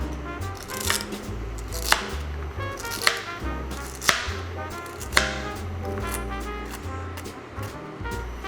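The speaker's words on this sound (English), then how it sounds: "Then I'm gonna try to get my celery just as finely chopped as I can." A knife chops celery finely on a cutting board, with sharp distinct chops landing roughly once a second over a steady, busy background of lighter cutting sounds.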